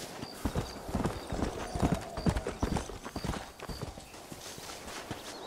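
Horse hooves clip-clop steadily in Red Dead Redemption on PS3, a rhythmic series of close, clear hoofbeats with an occasional faint whinny and some background game ambience.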